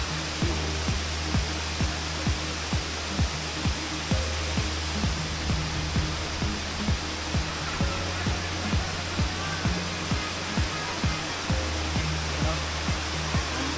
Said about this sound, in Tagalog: ito yung Kaparkan Falls sa Tineg Abra. Oh. Multi-layered na falls.